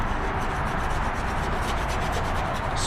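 A putty knife scraper spreads glue inside a Singer 15-91 sewing machine cabinet, giving a steady close rubbing, scraping sound with no pauses and no voices.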